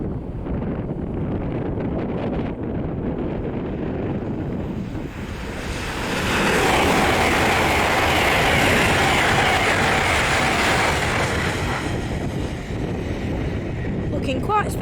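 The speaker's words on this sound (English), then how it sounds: "one of LNER's Azumas on a service from Edinburgh to London King's Cross" LNER Azuma passenger train on an Edinburgh to London King's Cross service, approaching and passing a level crossing: a broad roar swells steadily and holds loud as it goes by, with wind buffeting the microphone.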